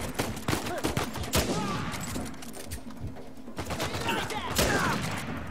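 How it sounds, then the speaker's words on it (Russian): Rapid bursts of automatic rifle fire from an enemy soldier in the action game Uncharted 4, with repeated sharp cracks over several seconds amid combat noise and a voice. "автоматчик стреляет четче"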